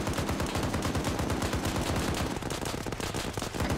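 A .50 cal machine gun fires in sustained rapid bursts in a military shooter video game, loud, dense and unbroken, with a slight dip partway through.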